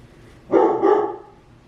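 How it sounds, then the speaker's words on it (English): A single dog barks once or twice in quick succession, a short sharp burst at moderate distance against a quiet background. "Since the dog is starting to bark"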